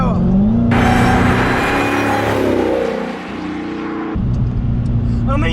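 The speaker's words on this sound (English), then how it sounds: "light applications of the throttle are whipping me up into some very high speeds" A 2020 Dodge Challenger Hellcat Redeye with a 797 hp engine accelerates hard, its loud engine roar climbing in pitch through gear changes, heard from inside the car with someone talking over it.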